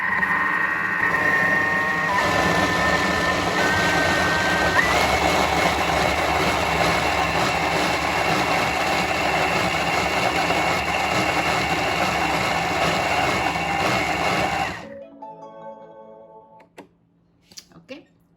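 A Thermomix whirs at high speed blending lentil cracker dough, a loud continuous motor drone that runs steadily for about fifteen seconds and then cuts off, leaving near silence with faint clatter.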